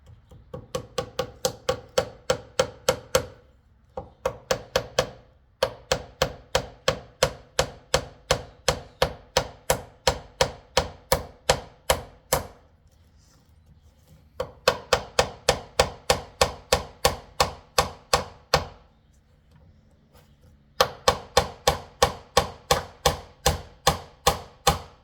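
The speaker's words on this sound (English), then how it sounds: "I'm using a nail set to hammer in these little tiny nails" Tiny nails being driven into antique furniture with a nail set struck in place of a hammer: sharp, close metallic taps in quick, even bursts of a dozen or more, separated by short pauses.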